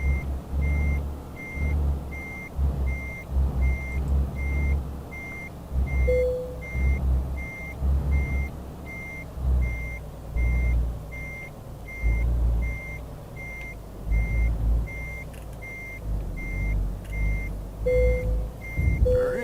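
Reversing beeps from a Renault Premium truck in Euro Truck Simulator 2 repeat in a regular steady rhythm over a low diesel engine rumble, with brief air-brake hisses.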